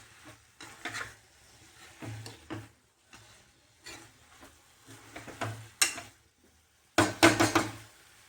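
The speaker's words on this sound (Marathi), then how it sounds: "त्यापेक्षा थोडीशी तेलात परतून घेऊया" Methi leaves and peas are stirred and sautéed in oil in a pan. A spoon scrapes and clatters in irregular bursts over a soft sizzle, with louder clanks near the end.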